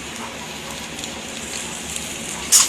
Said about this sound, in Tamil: இந்த எண்ணெய் இருக்கிறதுலையே வதக்கிடணும்